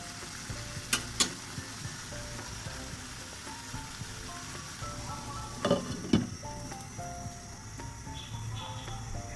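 Rohu fish cooking with olives in a pan gives a moderate, continuous sizzle, broken by a couple of sharp clinks early on and a brief cluster of stirring knocks later, with no talking.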